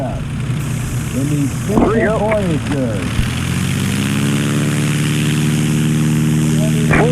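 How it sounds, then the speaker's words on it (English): Propeller engine of a STOL airplane flying laps around the pattern at a Great Lakes STOL contest, heard from the cockpit: a loud, continuous engine drone with shifting pitch, near and steady throughout. "here's a couple of laps around the pattern in the STOL contest from the pilot's perspective"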